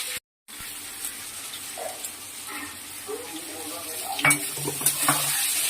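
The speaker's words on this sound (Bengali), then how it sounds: "পিঁয়াজটা দিয়ে একটু ভাজা ভাজা করবো" Onions go into a hot pan with cumin for a duck egg curry and sizzle steadily, with occasional stirring scrapes and light clinks, moderately close and soft.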